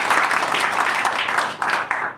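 Attendees at an informal football supporters' club meeting break into a short burst of close, lively clapping that tapers off quickly.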